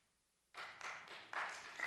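Audience members at a Clark County zoning meeting break into clapping after a resident's remarks, a moderately loud burst of hand claps starting abruptly from near silence and swelling in two waves.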